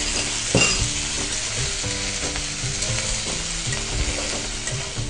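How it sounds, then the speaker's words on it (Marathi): Onion sizzling and frying in a hot pan, a steady close crackle with brief stirring scrapes, no voices. "थोडंसं तडतडल्यानंतर कांदा टाकायचा"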